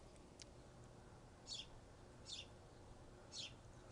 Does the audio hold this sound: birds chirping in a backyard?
yes